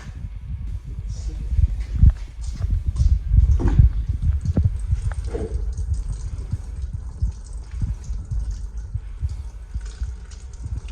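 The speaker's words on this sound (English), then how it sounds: "I'm going to rinse real good with water." Water splashes and runs while carburetor parts from a 1973 Honda SL125 motorcycle are rinsed, an uneven low rushing with scattered knocks and clatters of metal pieces handled under the flow, close by.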